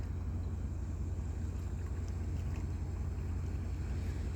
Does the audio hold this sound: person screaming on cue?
no